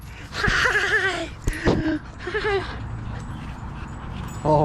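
A puppy whimpers and yips close by in several high, wavering, whiny bursts, with a brief sharp yelp in the middle and a human voice faintly mixed in.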